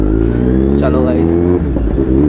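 A new Z900 motorcycle accelerates hard, its engine note rising in a loud, close roar that drops briefly as the gear changes. A voice can be heard under it.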